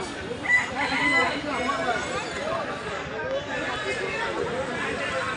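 Roosters crow and chickens cluck among ducks and pigeons at a busy rural poultry market, with a dense crowd murmur and voices filling the background throughout.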